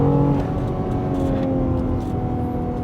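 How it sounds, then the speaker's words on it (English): A BMW X3 M or X4 M engine revs hard under acceleration, a loud, sustained low growl with a steady tonal drone that carries through the whole stretch without voices. "The engine sounds really nice."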